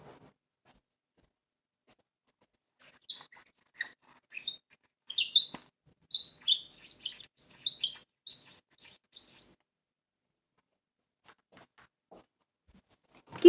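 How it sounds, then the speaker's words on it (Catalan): Nightingale song: a burst of bright, high chirps and quick trills, fairly close and alone, running for several seconds before fading to quiet. "Rossinyol, molt bé."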